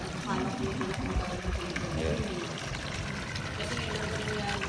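Water pump in a flooded subdivision during high tide discharges a steady, rushing pour of floodwater, a continuous close gushing that runs the whole time under someone briefly speaking.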